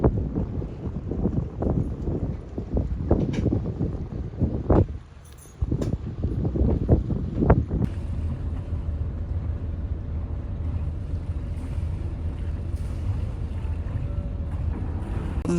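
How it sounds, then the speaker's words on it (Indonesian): A large ship eases slowly out of a big canal lock near Amsterdam, giving a steady low engine rumble with heavy wind buffeting the microphone and a few knocks early on. "Ini kapal dari dalam lock udah mulai perlahan keluar"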